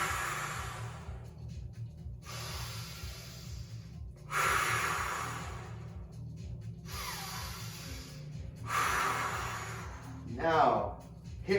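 Slow, deep breaths during a back-stretching exercise come as about four long, airy inhale-exhale cycles near the microphone over a low background hum, with a brief voiced sound at the end.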